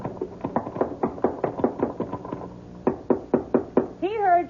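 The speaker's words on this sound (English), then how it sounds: "You get to the top, just bang on the trap door." Someone bangs hard on a trap door in an old-time radio drama, a loud run of sharp knocks in two bursts with a short pause between, followed by a brief spoken voice.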